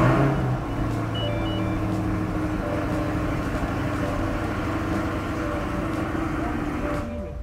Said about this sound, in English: Start the car and it should light up our radar detector.